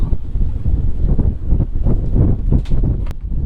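Gusty wind buffets the microphone aboard a sailboat entering Marigot Bay, St Lucia, a loud uneven rumble of pulsing gusts, with faint boat and water sounds beneath.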